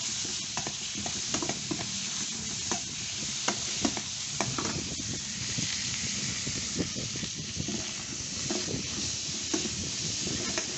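Pork sizzles in hot oil, reused from frying eggs, on a gas stove for a Thai holy basil stir-fry. A steady, dense hiss runs throughout, broken by frequent scraping and stirring clicks, up close and without talk.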